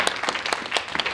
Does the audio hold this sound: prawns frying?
no